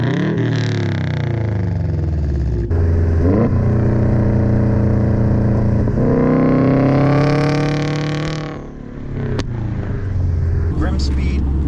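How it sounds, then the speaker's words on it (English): A 2008 Subaru Legacy GT with a stock turbo, catless downpipe and Invidia Q300 catback exhaust rumbles and revs close by, the engine note rising and falling through several pulls. "all Invidia exhaust from it's a turbo catless downpipe. Right, which sounds awesome"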